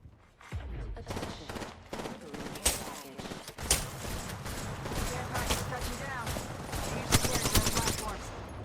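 Gunfire in the Apex Legends video game rattles in rapid bursts and scattered single shots, moderately loud and continuous, with people talking over it.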